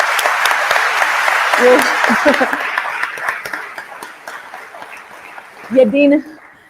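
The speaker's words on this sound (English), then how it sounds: "I think he deserves like this really amazing applause." An audience at an evening commemoration event breaks into loud, sustained applause that slowly fades, with a voice briefly heard over the clapping near the start and again at the end.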